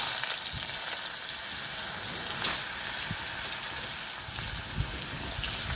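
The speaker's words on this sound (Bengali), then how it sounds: "পেঁয়াজটাকে একটু আমি লাল করে ভেজে নেব।" Chopped onions frying in the oil left over from frying katla fish, for a fish curry: a loud, continuous sizzle and hiss with the occasional stirring scrape, heard alone without voices.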